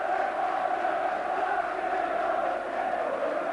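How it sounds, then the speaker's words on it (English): Football crowd in a stadium giving a ripple of sporting applause after a goalkeeper's run, a steady, even roar of massed voices and clapping with no distinct individual claps standing out. "There's a little bit of sporting applause there"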